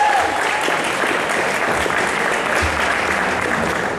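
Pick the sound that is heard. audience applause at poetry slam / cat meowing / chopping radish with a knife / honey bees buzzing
audience applause at poetry slam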